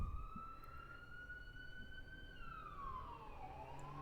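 A police or ambulance siren passing outside, heard faintly at a distance as a wailing tone that holds steady and then sweeps down, over low background noise.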